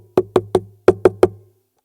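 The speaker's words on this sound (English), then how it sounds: "tap the side of the guitar, there's not a lot of sound coming through" Six hollow knocks from a hand tapping the side of a Takamine acoustic guitar through its pickup, evenly spaced in two groups of three, each with a short woody ring, close and moderately loud with no other sound.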